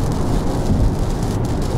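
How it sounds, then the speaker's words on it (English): Heavy night rain pours steadily around a Porsche Taycan Turbo S stopped to charge, a dense, constant wash of loud low rumbling patter with no voices. "What a weather. It's raining cats and dogs"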